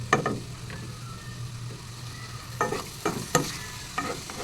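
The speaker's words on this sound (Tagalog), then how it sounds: "Gisa-gisa muna natin ang ating sahog na chicken." Chicken, skin still on and oily, being stirred and sautéed in a pan for ampalaya con carne: a soft background sizzle broken by several sharp utensil scrapes and clinks against the pan, close by, no speech.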